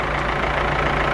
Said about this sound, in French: À 300 chevaux, c'est une Ferrari? Ah non, c'est un McCormack.